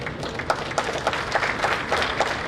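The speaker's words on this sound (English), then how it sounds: "Please give yourselves a big round of applause." Conference audience applauding at the close of a plenary session, a steady dense patter of many hands clapping at moderate distance, sustained throughout without speech.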